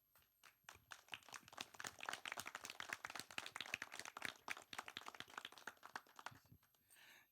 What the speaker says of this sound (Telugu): ఒక్కసారి అందరూ క్లాప్స్ కొట్టండి.